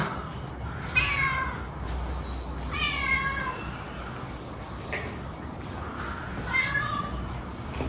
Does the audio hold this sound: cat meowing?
yes